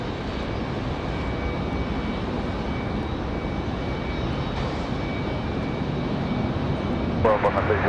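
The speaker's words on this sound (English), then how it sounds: "Southwest with the surprise departure for 5 left" A Southwest jet departing runway 5 left at Raleigh-Durham International, a steady broad engine roar from a distance filling the whole stretch, with faint talk over it.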